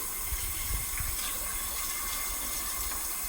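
Steady stream of cold tap water pouring into a pot, a continuous close hiss and splash without voices.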